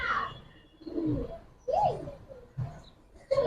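Giribaz pigeons in Old Dhaka coo in a few separate, soft, rolling phrases with short gaps between them, close by and fairly quiet.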